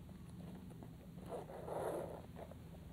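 A speed lacing pull tab on an Alpinestars Montreal casual shoe is slid and tightened, giving a soft zipper-like rasp, faint and close, rising briefly in the middle.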